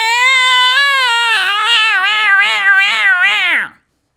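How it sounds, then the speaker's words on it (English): A cat meows in one long, drawn-out, wavering cry, loud and close, that rises and wobbles before cutting off abruptly near the end, with no talk over it. "That's a cat."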